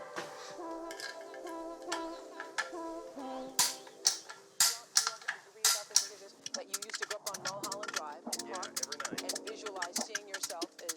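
A ratchet tightening nuts on a Volkswagen Beetle engine for a Baja Bug build, with bursts of quick metallic clicking that grow busier toward the end as someone talks over the work.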